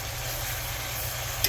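Chicken pieces sear in hot oil in a pan for arroz con pollo, a steady, close crackling sizzle with a low hum beneath and one brief clink near the end.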